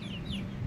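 Hens clucking inside a backyard chicken coop, a short burst of low murmuring clucks with a faint higher squawk, close and clear.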